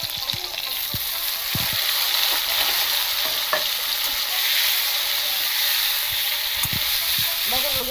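Eggplant frying in hot oil with slit green chillies makes a constant, close sizzle, punctuated by occasional clicks and knocks from stirring.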